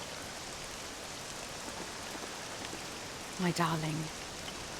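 Steady rain patters in the video game Dragon Quest VII Reimagined as a soft, even hiss throughout, with a short spoken line breaking in near the end.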